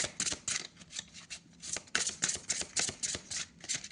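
Oracle cards being handled and one drawn from the deck, heard as quick close papery flicks and riffling bursts in a quiet room, with no speech.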